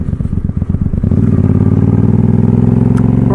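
A motorcycle rides back into a residential neighborhood, its engine loud and close with a rough, pulsing idle that settles into a steady, even drone.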